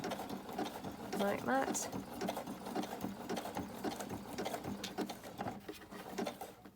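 Sewing machine running in short bursts as it back stitches through a fabric journal cover, a steady close mechanical whir with pauses between runs, and someone speaking briefly over it.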